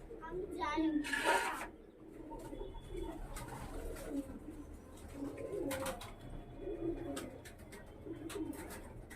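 Soft, low coos of Pakistani high-flying pigeons repeat at a relaxed pace nearby in Belegachi, with brief chirps and a voice in the background.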